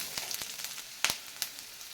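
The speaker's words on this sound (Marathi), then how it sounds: "आपण दोन तीन मिनिटच फुल गॅसवर हा कांदा भाजून घेणार आहोत" Onion frying in a pan over a full gas flame, a steady soft sizzle with a few sharper crackles and pops, close and alone without voices.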